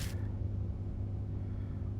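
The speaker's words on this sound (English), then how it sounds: "Thunder rumbles in the distance." A distant thunder rumble in the video game Spirit Hunter: Death Mark is a low, steady, heavy roll. A brief hiss opens the sound, and the rumble then holds under nothing else.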